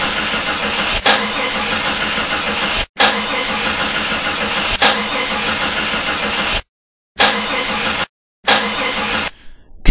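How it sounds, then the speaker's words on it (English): A spaceship engine ignition effect in a comedy radio play sounds like a motor cranking and catching in loud, repeated bursts, broken by sudden cut-offs and short silences, with no voices over it. "Initiate engine ignition sequence."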